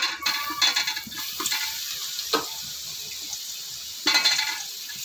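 Tomato pieces frying in hot oil in a pan give a steady, close sizzle with brief stirring scrapes and a few louder bursts, and no voices.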